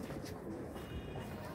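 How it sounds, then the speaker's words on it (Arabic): Pigeons cooing in a loft of racing-type pigeons, soft low coos repeating steadily through the short stretch with a faint murmur of background noise. "بص فرد الحمام"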